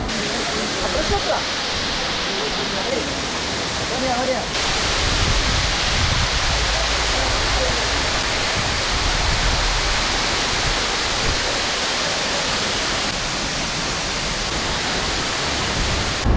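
Valanjanganam waterfall in Kerala produces a constant, loud, broad rushing roar heard from close by, steady throughout with no pauses.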